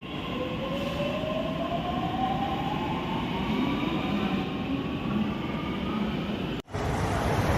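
A metro train runs past near Lower Malad station, a loud steady rumble of wheels on rail with a faint rising whine, continuous and close throughout.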